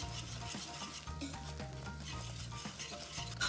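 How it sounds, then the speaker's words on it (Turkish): Flour stirred and toasted in melted butter in a pan for a five-ingredient mock chicken-breast pudding, giving a steady sizzle with repeated rhythmic scraping strokes, close and continuous with no talk. "kokusu çıkana kadar iyice kavuracağım"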